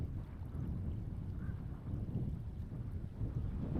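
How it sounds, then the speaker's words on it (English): Wind gusts across a riverbank during early spring bank fishing, a faint, continuous low rumble buffeting the microphone with no talking. "Or is that the wind? That's the wind."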